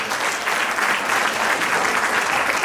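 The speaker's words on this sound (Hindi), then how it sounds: "तालियां।" Enthusiastic audience applause at a theatre and Kathak dance stage show, a thick, continuous wash of clapping close and loud throughout.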